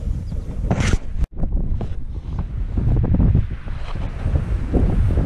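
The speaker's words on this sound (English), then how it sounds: "Gale force winds. Just like normal." Gale-force wind batters the microphone while fishing on the water, a loud continuous roar with gusty buffeting and a brief dropout, no voices.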